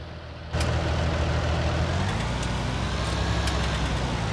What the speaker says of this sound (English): This is still a pretty big tractor